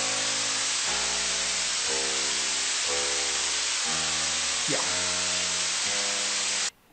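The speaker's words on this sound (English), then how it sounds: "so you have some white noise added here, and then you had a transposition of the scale itself, and you also had a high pass filter there" An augmented musical scale plays as steady, evenly spaced tones stepping through the notes, transposed and high-pass filtered, buried under a loud wash of continuous white noise hiss that cuts off abruptly at the end.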